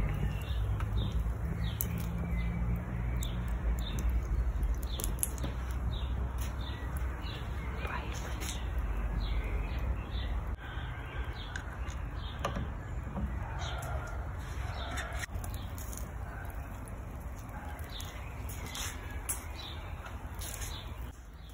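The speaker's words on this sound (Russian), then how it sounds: "Птицы поют" Birds chirping outdoors in sunshine and a light breeze beside a barbecue grill where pork is being prepared, faint scattered calls riding over a steady background hum, with no voices.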